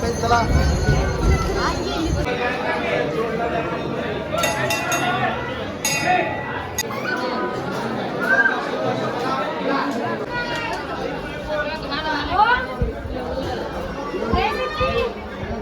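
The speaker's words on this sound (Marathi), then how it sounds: "खूप सारी गर्दी." A dense crowd chatters at a busy temple and samadhi math, with steady loud babble, scattered clinks and children's voices filling the whole stretch.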